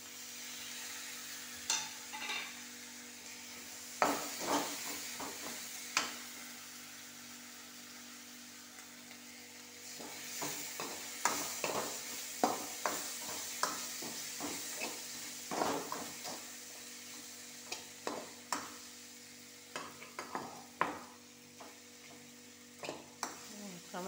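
Tomato pieces frying with coconut paste in a pan, a soft sizzle under intermittent scrapes and knocks of a stirring spoon, close but fairly quiet.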